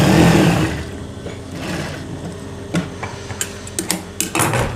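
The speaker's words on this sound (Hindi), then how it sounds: "ये एक पैर की सिलाई लगानी है इस पर।" A sewing machine stitching a folded kameez sleeve, a low mechanical hum that settles into quick ticking stitch bursts, close and moderately loud with no voices.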